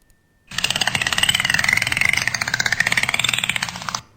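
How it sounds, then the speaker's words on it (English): Dolphins hunting fish send out a rapid, dense train of echolocation clicks. The clicks run steadily, buzz-like and fairly loud, for about three and a half seconds alone. "It's sending out a series of clicks because it wants to hunt and echolocate the fish."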